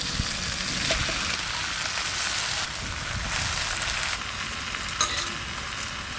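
Farm-fresh leafy greens go into a hot pan and sizzle loudly with a continuous frying crackle, stirred close at hand with occasional scrapes and clinks.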